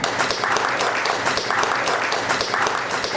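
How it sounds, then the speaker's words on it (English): An audience at a vegan book talk gives a round of applause for a young boy, loud dense clapping with rhythmic pulses sustained throughout. "One more round of applause."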